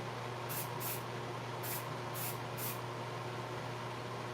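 A chalk-like coating spray is misted onto glass ahead of laser engraving, heard as five short hissing bursts in quick succession over a low steady background hum, with no talking.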